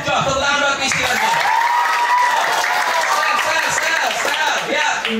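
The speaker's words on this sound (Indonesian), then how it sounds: "Coba tepuk tangan buat PC lagi." Applause from children and adults at a one-day English and character camp, loud enthusiastic clapping mixed with cheering voices and crowd chatter, continuous throughout.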